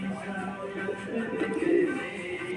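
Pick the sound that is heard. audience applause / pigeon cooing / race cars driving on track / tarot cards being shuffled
pigeon cooing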